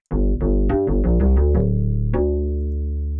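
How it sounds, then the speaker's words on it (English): A plucked, physical-modeling string synthesizer plays a quick run of bright notes, then one final note sustains and slowly fades, with no voices. "it's a physical modeling string"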